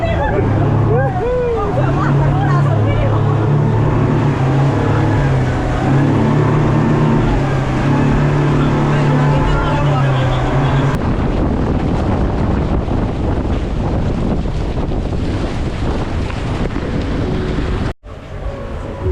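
A motorboat engine drones steadily on open ocean water in the Maldives, loud and buffeted by heavy wind noise, with people talking over it before the engine note drops away near the end.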